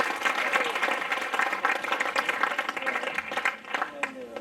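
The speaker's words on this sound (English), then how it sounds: "can we give Ken a round of applause as well?" An audience at a football club's senior awards presentation night gives a warm round of applause, steady crowd clapping that thins toward the end while voices carry faintly underneath.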